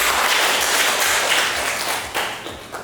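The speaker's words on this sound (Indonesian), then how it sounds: "Kita beri aplaus buat Mbak Gusti." A classroom of students gives a short burst of dense applause for a classmate, loud and close, thinning out toward the end.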